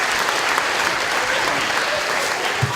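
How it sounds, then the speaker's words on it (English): An audience at a Christmas-season science show gives a round of applause, a dense, steady wash of many hands clapping at close range for about three seconds. "Give me at least a round of applause for that one."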